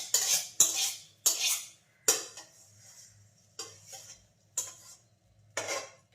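A cooked capsicum dish being spooned into a steel mixer grinder jar, a series of about eight sharp metallic clinks and scrapes of a spoon against the jar rim, spaced irregularly with short quiet gaps between them.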